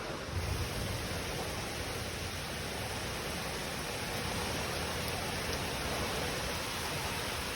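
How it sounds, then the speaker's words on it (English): Strong wind and heavy rain during a storm, a steady, loud roar of broadband noise that holds without a break and no voices on top. "Now it's getting bad and windy."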